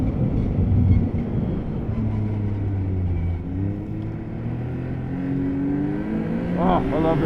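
The engine of a blue 2021 Yamaha Sidewinder SRX snowmobile drones steadily up close, its pitch rising and falling as the throttle is worked, with someone talking over it.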